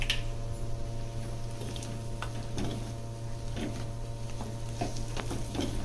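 Chicken fry being mixed with extra masala and chopped coriander: soft, intermittent scraping and squishing stirs, fairly quiet over a steady low kitchen hum, with no talking.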